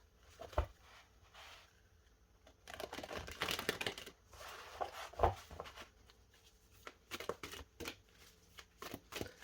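Soft riffling and slapping of tarot cards being shuffled in irregular bursts, close by and fairly quiet, with brief pauses between shuffles.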